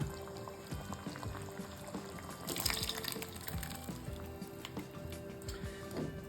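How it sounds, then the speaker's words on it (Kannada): Water is poured into a mixer grinder jar in a quiet, splashing trickle with light clinks and knocks from the jar, soft and close. "ಇದೇ ಜಾರಿಗೆ ಸ್ವಲ್ಪ ನೀರು ಹಾಕ್ಕೊಂಡು"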